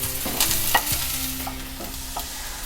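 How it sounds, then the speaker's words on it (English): About ten to twelve finely chopped garlic cloves fry in heated oil in a frying pan, giving a steady close sizzle broken by a few sharp stirring scrapes and clicks. "Now I'll be adding approximately 10 to 12 garlic cloves to this."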